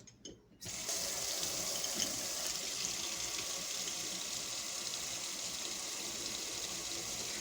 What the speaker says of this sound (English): I take the container and I fill it about up to here with hot water